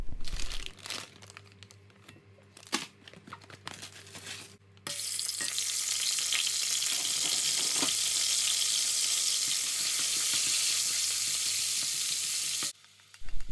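Oil heats quietly in a pan with a few light clatters, then fresh garlic and ginger cubes drop in and burst into a loud, steady sizzle of frying that holds evenly for about eight seconds before cutting off.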